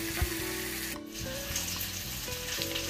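Chicken grills on a simple setup for ayam besengek, giving a steady sizzle with a continuous frying hiss and faint clinks throughout, alone without talk.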